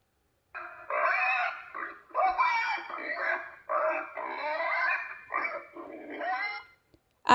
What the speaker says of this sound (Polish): Świnia kwiczy.